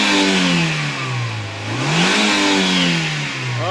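A Toyota LiteAce engine is revved up and down close by, its pitch rising and falling in smooth sweeps over a continuous loud drone, with no talk.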